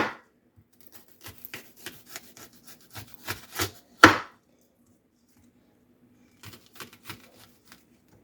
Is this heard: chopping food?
yes